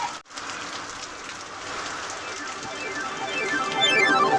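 Rain falls on a street in a Gujarat town, a soft continuous patter that grows slightly louder toward the end, with a voice briefly audible over it.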